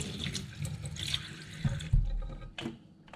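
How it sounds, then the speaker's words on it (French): A thin stream of tap water runs over a vape coil to rinse it, a steady close splashing wash that briefly swells and sputters partway through. "on met un petit filet d'eau, de rien du tout. On rince."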